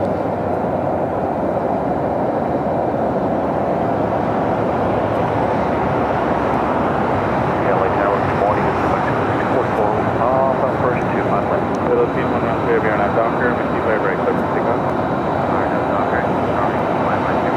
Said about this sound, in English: Asiana A380 Super now about to make a left-hand turn onto